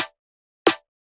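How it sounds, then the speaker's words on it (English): Two layered drum and bass snare hits, dry and centered with no stereo widening, land alone with a gap between them; each is a punchy, bright crack that decays quickly into silence. "Now if we check it with the rest of the snares and without the stereo shaper"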